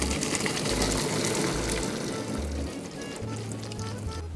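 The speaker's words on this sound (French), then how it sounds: "On va les égoutter." Cooked serpentini pasta drained from the pot, a continuous rush of pouring water splashing close by for several seconds, with faint clunks underneath.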